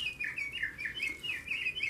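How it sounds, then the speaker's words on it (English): An indoor bird-song clock chimes a recorded house finch call: a rapid run of bright, warbling chirps repeating steadily, fairly clear over a quiet room. "it is the house finch o'clock. The birds outside are not singing, but the clock is inside."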